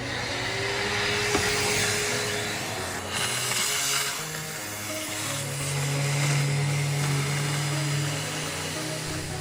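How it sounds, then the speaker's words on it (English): A vacuum cleaner whines loudly and steadily while picking up sanding dust on a boat's teak deck, its pitch shifting slightly as the nozzle moves, close and continuous with no talk. "We need a vacuum because we're making a mess on the deck."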